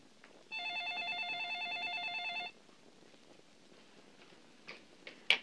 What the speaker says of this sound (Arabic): استني يا مديحة، أنا اللي هرد على التليفون